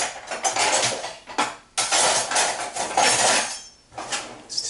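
Beans being worked out of a can, with repeated metallic clanks and scraping of metal against the can rim in bursts of close, fairly loud clatter separated by short pauses.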